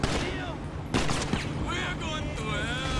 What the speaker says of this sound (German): Kenny hat gerade 5 Leute, die auf ihn schießen hier.